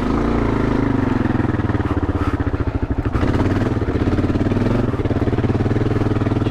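A motorcycle engine chugs steadily at low revs on a hard off-road adventure ride, a continuous deep throb with slight dips and rises in throttle, close and fairly loud.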